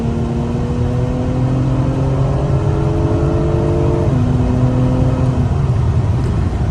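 Acura TLX Type S engine revving up in traffic, a steady loud drone with rising gear-like tones that climb, shift down around four seconds and continue over a constant road rumble, heard from inside the car.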